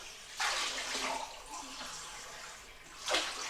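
Water pours in two short splashy bursts, likely into a glass for drinking at a burger taste test, quiet and close with a soft gurgle between pours.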